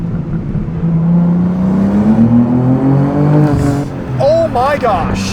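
A G87 BMW M2 sports car accelerating hard with its exhaust valves open, a steady rising engine drone from inside the cabin, with people talking over it and an excited exclamation near the end.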